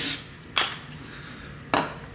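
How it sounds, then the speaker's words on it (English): Cooking spray is spritzed onto a pancake pan in a home kitchen, with two short, sharp hissing bursts following an earlier one, close and fairly loud against a quiet room. "Give it a little spray"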